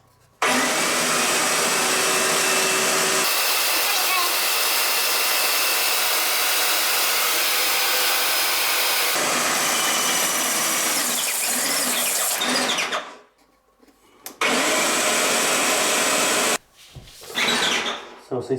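A Wagner Control Pro 250M paint sprayer runs with a loud, steady, broadband whine that cuts out twice, then restarts. A voice speaks briefly during the gaps.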